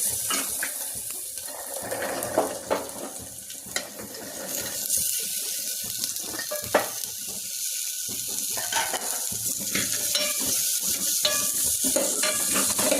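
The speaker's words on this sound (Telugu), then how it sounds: "ఇవన్నీ అయినాక ఇప్పుడు శనగలు వేసుకుందాం. ఉడకబెట్టిన శనగలు ఇవి." Boiled chickpeas are stirred into a sizzling pan for a brown radish seed chaat, giving a steady frying hiss broken by irregular scraping and clinking stirs, close and fairly quiet.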